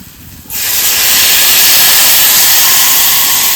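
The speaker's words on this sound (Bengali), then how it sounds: "আলুটা ভালো করে কষিয়ে নিয়েছি এবার জল দিয়ে দেবো" Water poured into a hot pan of potato curry bursts into a loud, close hiss half a second in and keeps steaming strongly until it cuts off at the end.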